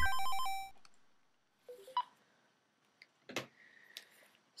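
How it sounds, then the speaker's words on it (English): Phone ringtone going off during a StarTropics video game session, a short electronic melody of bright stepped beeps, followed by scattered faint beeps and tones from the game. "it's always fun to hear someone's phone calls on YouTube"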